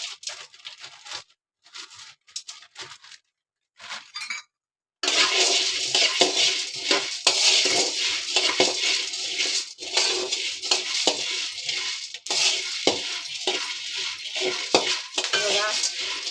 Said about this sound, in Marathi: त्याच्या जोडीला मी तिरपाळ टाकते, म्हणजे एकसाथ भाजणार त्यांना.